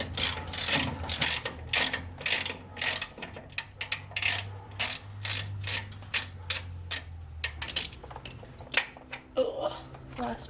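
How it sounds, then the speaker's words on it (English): Hand ratchet working loose the transmission mounting bolts on a 1987 Chevy S10 during a transfer case removal, giving repeated bursts of close, sharp clicking over a low hum, with a person talking in the background. "Next step to removing the transfer case is to get these transmission mounting bolts off."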